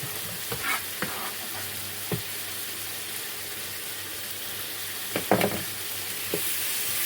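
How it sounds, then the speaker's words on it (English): Vegetables sizzle and fry steadily in a pan for a stir fry, with a few sharper crackles and stirring clatters near the start and toward the end. "Lovely frying noise, all in."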